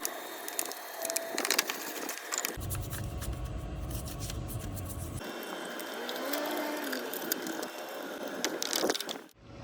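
Stiff brush and toothbrush scrubbing a dirty car engine bay, a steady run of close scratchy, rasping strokes with a denser, heavier burst of scrubbing in the middle and quieter brushing toward the end.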